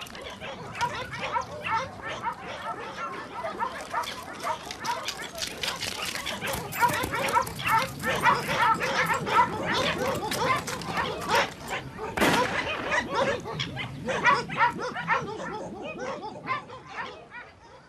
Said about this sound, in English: Dogs are employed to track the pumas that cross into the ranches